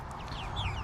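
Barnevelder and Golden Lace Wyandotte hens cluck softly in a backyard run, a brief close murmur of fowl calls over steady low background noise.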